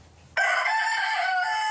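A rooster crows loudly and close, one sustained cock-a-doodle-doo that cuts in sharply after a short quiet moment and carries on to the end with no voices.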